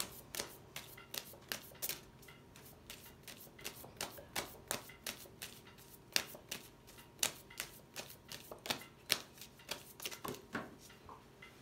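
Rider-Waite tarot cards are shuffled by hand indoors, giving repeated quick riffling bursts in an uneven rhythm, close and fairly soft, with no talk.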